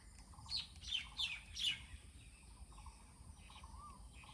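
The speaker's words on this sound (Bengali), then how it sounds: "সুন্দর সুন্দর পাখির আওয়াজ শুনতে পাচ্ছ" Small birds chirp in a village in a short run of bright tweets, faint and somewhat distant, followed by softer calls against a quiet outdoor background.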